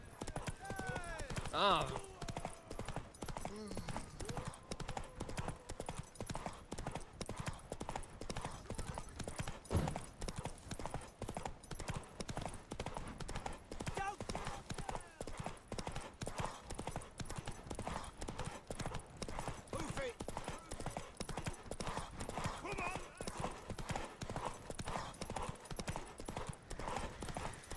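Horse hooves clip-clop in a steady rhythmic trot in the Witcher 3 game world, constant and moderately close throughout, with a brief voice heard early on.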